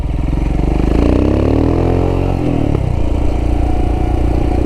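A Royal Enfield Himalayan fitted with a 462cc big bore kit and Tec cam revs loudly and close up. Its engine note climbs steeply, then drops back and settles into a rough, steady idle.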